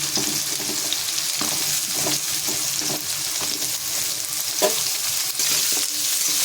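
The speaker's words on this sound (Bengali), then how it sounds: "এর সঙ্গে আলুটাও ভাজা হবে।" Chopped onion and potato frying together in a pan, with a dense, continuous sizzle and occasional stirring knocks, close up and with no voices.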